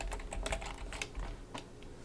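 Quick, irregular clicks of keys on a computer keyboard while HTML code is typed, close and fairly quiet, with no voices.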